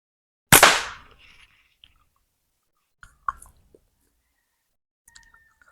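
A single sharp, loud snap of a slingshot shot fired at a 45-degree angle, decaying quickly, followed by a few faint scattered clicks in near silence.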